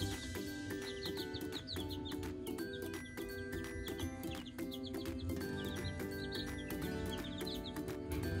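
Dense chorus of clucking and cheeping baby chicks, many birds calling at once, continuous and fairly loud with no talking.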